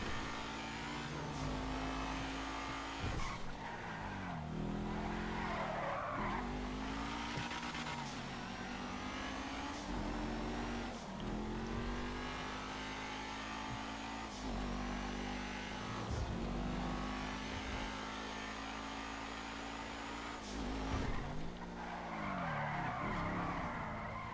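A Maserati GranTurismo in the video game GTA V skids around repeatedly, with long tire squeals and a revving engine in a continuous, loud stream of sliding and accelerating.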